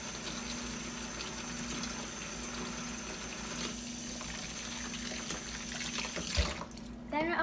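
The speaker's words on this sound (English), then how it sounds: "The first thing I need to do is wash my hands." A kitchen tap runs steadily while hands are washed under it before pizza dough is rolled out. The water hisses quietly throughout and ends in a short splash of handling near the close.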